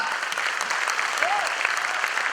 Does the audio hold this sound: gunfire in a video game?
no